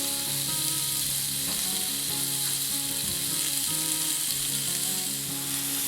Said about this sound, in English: Okay, nice and hot. Get a good sear on there.